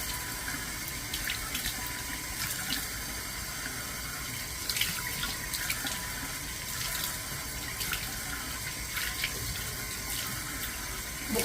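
Hot water runs steadily from a tap into a sink during washing, a continuous close splashing hiss with small splatters and no talking.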